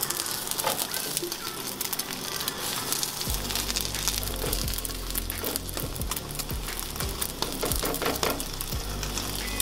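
Egg frying in a hot pan and being folded like an omelette, with a steady close sizzle and crackle, scattered scraping taps of the utensil against the pan, and a louder frying burst partway through.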